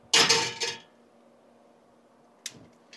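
A pan set down on an Outland Living two-burner Princeton camp stove: a loud metallic clatter and scrape up front, quiet, then a short sharp clink near the end.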